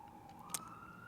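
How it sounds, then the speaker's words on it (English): An emergency siren wails faintly outdoors in the distance, a thin rising tone drifting steadily upward over low background noise for about a second. "You guys hear that siren?"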